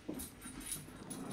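A tamed wolf dog in Minecraft whimpers and pants softly through a short stretch of faint ambient game sound, with no talk over it.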